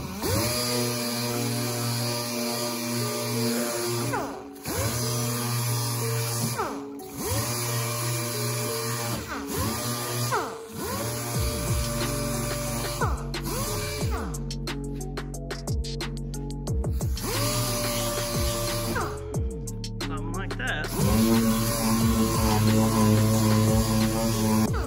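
Power sander running steadily over patina paint on a Porsche with 320-grit paper, a continuous close whirring drone with periodic pitch dips and brief gaps, loud and alone with no talking.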